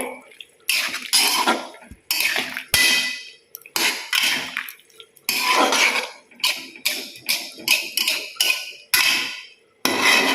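Potato and young jackfruit curry with water added is stirred in a pot, giving repeated loud clanks and scrapes of a spoon against metal in bursts, with brief pauses between strokes.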